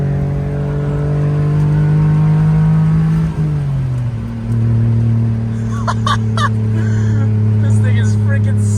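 A small three-cylinder Honda JDM car engine holds a loud, steady high-rev drone near 5,500 RPM, with a brief dip in pitch partway through before settling into a sustained buzzing tone.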